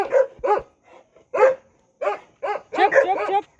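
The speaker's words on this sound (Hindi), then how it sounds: "और ये इनकी डॉगी है" A pet dog barks at a quiet, isolated house, letting out a string of sharp, fairly close barks in irregular bursts, some quick doubles, with short pauses between.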